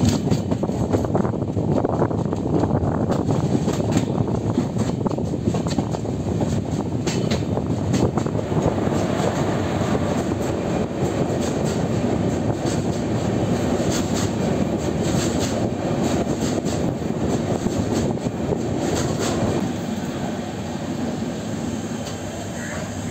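An AC double-decker Uday superfast express train rumbles steadily into Salem Junction, with a loud, continuous roar of wheels and carriage noise and faint clattering throughout.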